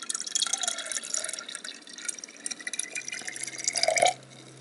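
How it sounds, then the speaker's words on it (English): Wine kit clarifier poured into a carboy makes a steady trickling, splashing flow of liquid that ends in a final gurgle, with no one talking. "what we're going to do is we're going to pour that into the carboy now."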